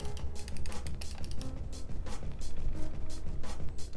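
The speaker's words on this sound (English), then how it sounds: "Buttons sound good, sound pretty fierce." Rapid crisp button clicks from a Cooler Master MM731 ergonomic gaming mouse, a dense irregular run of sharp close taps that continues steadily for several seconds with no talk.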